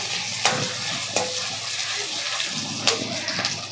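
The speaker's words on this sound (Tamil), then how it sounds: "பார்த்துக்குங்க வதங்குது." Finely chopped small tomatoes sauté in a pan for Madurai-style mutton chukka, giving a steady close sizzle broken by a few sharp clinks of stirring.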